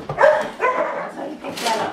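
A puppy barks and yips in short bursts during an obedience training session, close and fairly loud, with a person talking alongside the barks.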